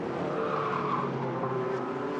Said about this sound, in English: The squeal of tyres.